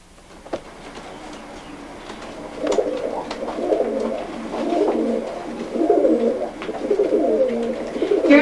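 Old German Owl pigeons coo in repeated soft, throaty phrases at close range, with several birds overlapping in rolling bursts and no talk over them.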